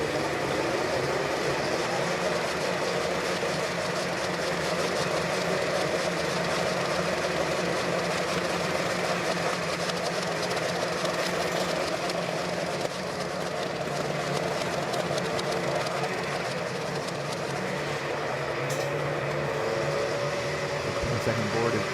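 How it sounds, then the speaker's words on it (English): Several snowmobile engines idle together on the starting line before a snowcross race in Kauhajoki, Finland, giving a steady, dense mechanical drone with a broad roar that holds loud and even throughout. "we're firing the engines up and get ready to go racing"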